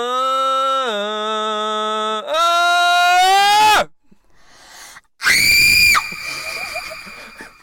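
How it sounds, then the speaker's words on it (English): Loud, piercing human screams, sustained and wavering in pitch, in two long bursts split by a brief near-silent gap, then a final shriek trailing into breathy noise. "was a scary scream. I've never screamed like that before"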